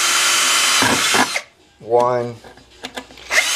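A power drill bores through a wooden post in a loud, steady burst lasting over a second, then cuts out, followed by a brief spoken word and a few light workshop knocks.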